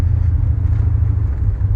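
Deep, steady engine rumble from a 1989 GMC Sierra SLE C3500 dually pickup with a 502ci V8 and shortened exhaust, droning loud and close from inside the cab while driving, with no talking.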